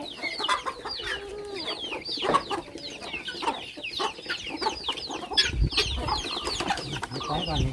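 Chickens cluck and chatter close by at a rural farmyard, with overlapping calls from several birds, a rooster's crow mixed in, and bursts of louder squawking and scuffling near the end.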